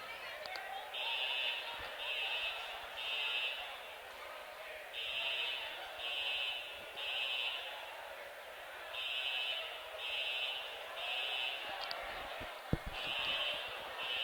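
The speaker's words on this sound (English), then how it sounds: "Apparently somebody probably accidentally pulled a fire alarm" A fire alarm pulled during a boys' high school basketball game sounds in a gym, its buzzing tone repeating in regular pulses over a steady crowd murmur.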